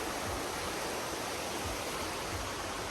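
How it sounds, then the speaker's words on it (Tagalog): Steady, rushing river water flowing continuously in the countryside, a broad even wash of sound with no voices. "Sarap pakinggan itong agos ng ilog."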